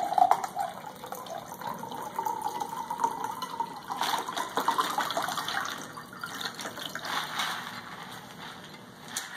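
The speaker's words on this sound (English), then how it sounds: "I'm gonna fill up my second glass" Tap water pours steadily into a glass, a continuous gushing fill whose tone shifts as the level rises, close and moderately loud, with no talk over it.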